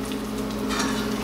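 A spoon works through risotto in a hot pan, giving a steady soft sizzle and a scraping stir that stays close and even throughout, with no voices.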